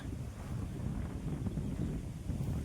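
Steady wind over a farm field buffets the microphone with a constant low roar, rushing and gusting without pause.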